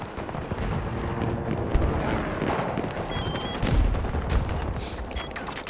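Battlefield 2042 gameplay fills the scene with continuous gunfire and repeated explosions, sharp bursts and deep booms overlapping at a steady moderate level throughout.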